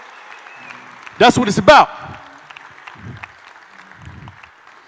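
A live audience bursts into a short round of clapping and cheering, loud for under a second, then a voice carries on talking over faint scattered murmurs from the crowd.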